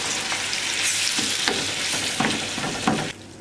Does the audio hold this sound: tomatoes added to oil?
yes